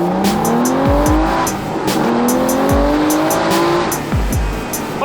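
A sports car launches from 0 to 60 along a straight stretch of road, the engine climbing loudly through several rising revs with quick dips at each gear change and tire squeal mixed in, heard up close with no talking.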